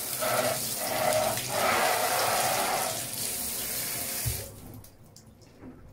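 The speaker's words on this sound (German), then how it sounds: "Wieder Dusche an, drunter halten." A shower sprayer blasts water into an aquarium breeding container, giving a steady hissing rush with splashing surges, then cutting off abruptly, leaving quieter drips.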